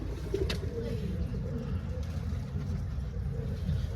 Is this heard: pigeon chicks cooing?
yes